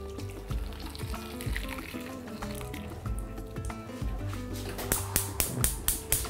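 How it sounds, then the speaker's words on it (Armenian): Boiled water poured from close by over a kilogram of salted cauliflower in a pot for a pork and cauliflower stew, a steady gurgling splash lasting several seconds, ending in a few sharp, separate drips and clinks. "վրան լցնում ենք"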